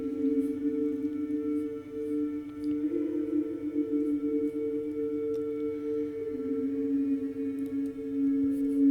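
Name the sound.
vocal ad-lib through reverb and granular synth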